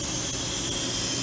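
A Milltronics RH12 CNC mill spindle with a recently replaced spindle turns steadily at 1,000 RPM, giving a quiet, even broadband whir with a faint hiss and no voices.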